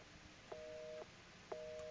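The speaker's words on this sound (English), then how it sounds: "Didn't mean to pick the phone up again." Telephone tones in Resident Evil 7: two evenly spaced steady electronic beeps, each about half a second long, playing alone and fairly faint.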